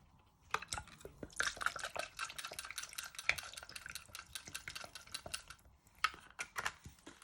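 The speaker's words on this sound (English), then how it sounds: "And then we just give that a little bit of stir first before we season it" A spoon stirs a soy sauce and orange juice mixture in a pan, with quick irregular scraping and clinking against the metal and light liquid sloshing, close and fairly quiet.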